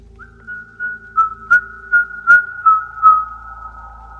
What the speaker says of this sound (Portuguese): Então escutei um assobio muito distante, vindo da direção das casas do outro lado da rua.